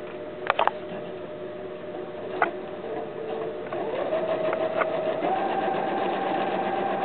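A sewing machine stitches a quilt block, a steady fast mechanical whir that speeds up partway through, with a few sharp clicks near the start.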